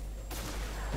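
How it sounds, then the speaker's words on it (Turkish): A grenade thrown and bursting in the shooter game Destiny on PlayStation 4, heard as a sudden broadband blast that cuts in and holds over a low rumble for most of a second, fairly faint overall. "Bombayı atıyorum."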